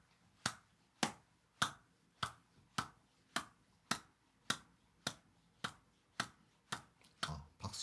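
A single person claps in a slow, steady rhythm, about a dozen sharp, evenly spaced claps close to the mic with no talking, the beat loosening slightly near the end.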